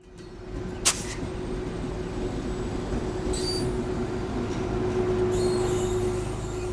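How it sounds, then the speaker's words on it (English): The Ghan train rolls along steadily through Australia, a constant low rumble and a sustained tonal hum, a brief sharp clank near the start, no voices. "we'll travel by train on the Ghan"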